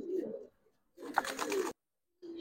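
Giribaz khaki and silver pigeons at a loft, giving two bursts of close, throaty cooing separated by short pauses, with a third coo starting at the end.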